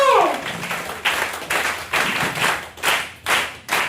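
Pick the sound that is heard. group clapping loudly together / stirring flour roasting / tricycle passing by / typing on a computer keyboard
group clapping loudly together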